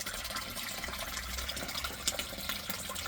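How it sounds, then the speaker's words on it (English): Water swirled around in a gold pan while panning for gold, a continuous sloshing wash with small splashes and trickles, close and steady throughout. "Take a bit of water in your pan, clean up what you've got"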